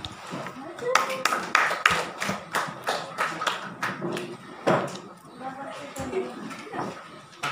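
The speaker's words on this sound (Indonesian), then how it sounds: "Lagi tepukan." Students practising speaking in a classroom clap their hands in short rhythmic bursts, sharp repeated claps mixed with voices talking between them.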